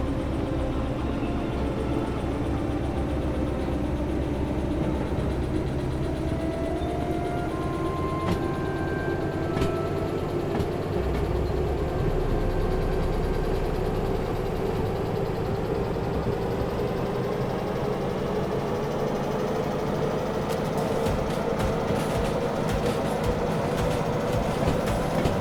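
Steady, loud rumble of a train engine in a train video game, with a continuous low drone, rising engine pitch and rolling wheel clatter throughout, plus occasional brief high tones and clicks near the end.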